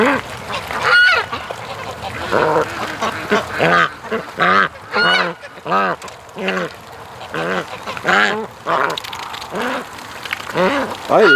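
Muscovy ducks close by giving repeated raspy quacks and honking, snorting calls in irregular bursts, loud and near.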